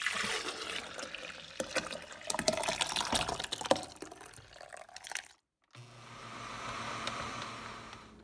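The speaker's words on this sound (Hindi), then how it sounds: "इसमें थोड़ा सा वाटर डाल लिया है।" Water poured into cooked, ground seedless tamarind for a tamarind chutney, a steady splashing and trickling pour that stops briefly and then continues more softly.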